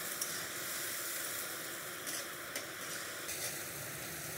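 Onion paste frying in a pan, a constant, dense hiss of sizzling oil with a few faint stirring scrapes, quiet and steady with no talk.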